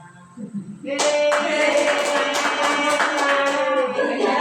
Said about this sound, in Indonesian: Nih, tepuk tangan